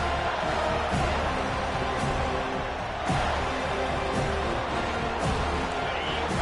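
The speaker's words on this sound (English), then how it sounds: "This crowd bringing an ear-splitting welcome to their visitors" A college football stadium crowd roaring steadily in a dense, loud wash of cheering and noise, with a commentator's voice partly audible beneath it.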